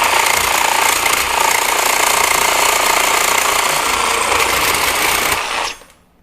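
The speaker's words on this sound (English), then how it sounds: "here's just a 1/2 inch piece of steel" Makita 40V XGT second-generation reciprocating saw slicing through a half-inch piece of steel, a loud harsh rapid chattering buzz held steadily up close for several seconds before cutting off abruptly.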